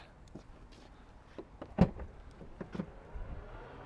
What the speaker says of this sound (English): power open, power close tailgate